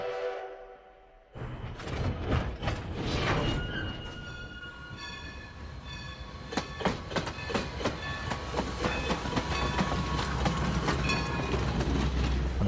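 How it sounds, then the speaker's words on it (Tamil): Train sound effect woven into a song beat with Arabic fusion flavor: rhythmic clickety-clack wheel sounds and a horn-like tone over steady percussion and music, loud and continuous throughout. "அந்த ட்ரெயின் பீட்டு நல்லா இருக்கு"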